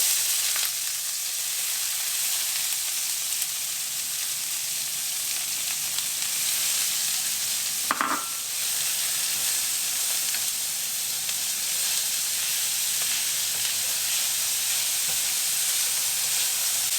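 Onion sizzles in a hot pan alongside spices, a loud continuous frying hiss up close, broken near the middle by a single short clatter.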